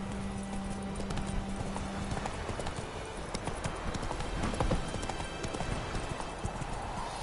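Roach, the horse in The Witcher 3, gallops in a steady, rapid clip-clop of hooves over a dense game soundscape, with a low tone sustained briefly at the start and no talk.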